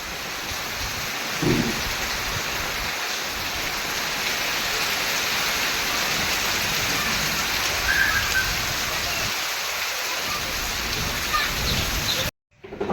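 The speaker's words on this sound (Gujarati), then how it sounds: "ફૂલ વરસાદ ચાલુ થઈ ગયો છે" Heavy monsoon rain pours down steadily at night, a dense, loud hiss of water drumming on surfaces, close by and unbroken.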